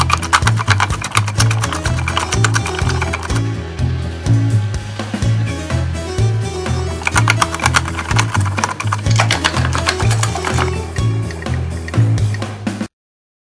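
A homemade granite-crushing machine built around thick-walled steel pounds away in a loud, fast, regular mechanical rhythm, with dense grinding and rattling of crushed stone throughout before stopping suddenly.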